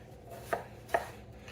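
A knife chops through unpeeled, washed potatoes with their skins left on, making two sharp, close cutting knocks about half a second apart against a quiet background.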